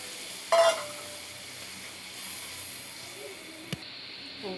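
Water and milk poured onto semolina frying in ghee for milk cake burst into a sharp, loud sizzle, then settle into a quiet, steady hiss with a faint clink near the end.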